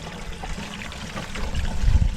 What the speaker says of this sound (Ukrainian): Так, Набираємо пів водички і тоді додаємо гербіцид.